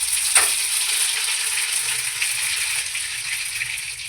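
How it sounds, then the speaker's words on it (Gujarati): Mustard seeds and cumin sizzle and crackle in hot oil as a tempering for patra, a steady close frying hiss with a sharp pop near the start and no talk over it. "તેલ આવી ગયું એટલે એમાં રાઈ જીરું નાખી દેવું"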